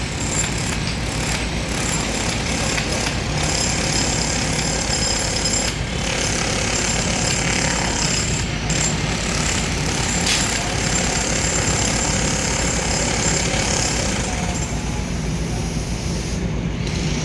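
A jackhammer pounds away at a concrete beam in a rapid, continuous hammering that runs on without a break, loud and close, mixed with a steady machine drone and occasional knocks and scrapes.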